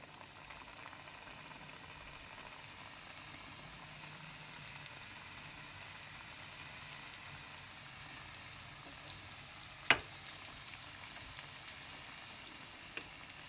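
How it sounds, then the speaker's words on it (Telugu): Eggless mini puffs fry in oil over a medium flame, a steady soft sizzle and bubbling that runs throughout, broken by a few small pops and one sharp crackle near the end, with no talking. "ఇలా నెమ్మదిగా మీడియం ఫ్లేమ్లో పెట్టుకొని వేయించుకోవాలండి"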